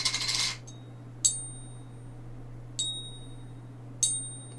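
Silver coin dropped onto a hard surface, a brushing sound followed by three separate bright metallic pings with ringing tails, spaced over a few seconds above a low steady hum.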